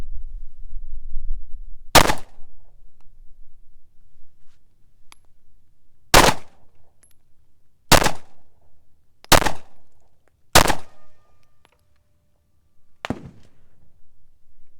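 Pistol shots from a Glock 48 fed by a Shield Arms 15-round steel magazine, six sharp loud reports spaced a few seconds apart with irregular gaps, outdoors, no talking.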